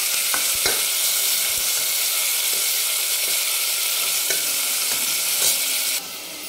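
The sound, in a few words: mutton sautéing in oil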